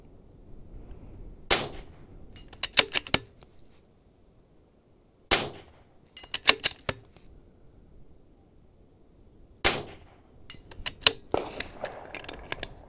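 Rifle shots from a Vudoo Gun Works V-22 at an outdoor range, three sharp cracks spaced a few seconds apart, each followed by quick metallic clinks and handling clatter.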